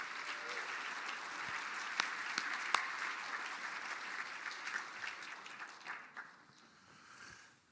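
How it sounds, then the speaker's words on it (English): A hall audience applauds a retiring District 3 representative of the Mille Lacs Band of Ojibwe after his 20-plus years of service, a steady wash of many hands clapping with a few sharper claps, fading out toward the end. "Let's give Harry one more round of applause for his 20 plus years."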